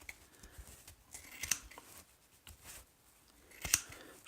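Scissors cut straight up the middle of a paper template for a custom dice box, giving a few separate crisp snips and rustles spread apart by quiet pauses, close up, with no talking.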